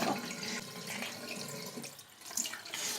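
Tap water runs into a sink as a child washes their mouth, a steady, fairly quiet splashing stream heard close.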